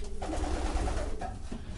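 Pigeons cooing in a loft, soft repeated low coos in a short rhythmic sequence, fairly near and quiet with no talk.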